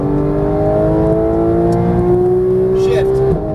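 A race car engine in the Gran Turismo racing game holds a steady, loud, sustained drone with rising harmonic tones as it accelerates, then briefly dips near the end.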